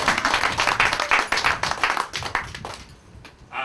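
Wedding guests clap together at a civil marriage ceremony, a fairly close burst of irregular hand claps that thins out and fades toward the end.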